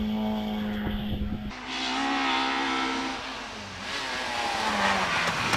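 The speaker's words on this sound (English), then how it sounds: "David West goes off the line, and up comes the Mark II Escort 179" A Ford Mark II Escort race car launches off the line at a hillclimb, its engine revving hard and climbing in pitch through the gears, loud and close at first and then carrying on as the car pulls away.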